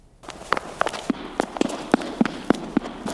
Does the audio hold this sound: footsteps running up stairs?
yes